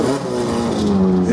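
A Gol ST 1996 race car roars at a racetrack during a metropolitan championship round, its engine revving loud and steady close by with a droning, humming tone. There is no speech.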